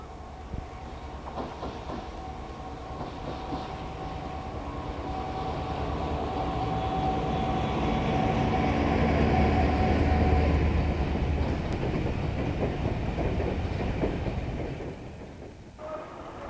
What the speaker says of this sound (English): EWS liveried 59201 was transferred to the area to work Llanwern to Port Talbot iron ore trains.